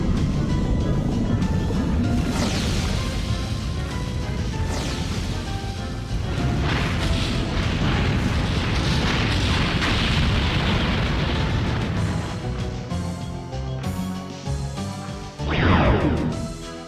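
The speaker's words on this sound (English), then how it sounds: "Explosion!" Explosions in the video game The Legend of Dragoon, a loud, dense stretch of booming blasts and crashing bursts rolling continuously, ending with a sharp rising burst near the close.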